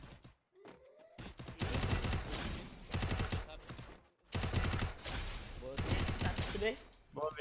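Gunfire in a video game: rapid bursts of automatic shots and single cracks come in dense clusters, loud and close, with short gaps between them and talk over the top.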